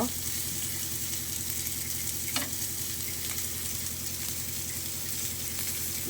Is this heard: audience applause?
no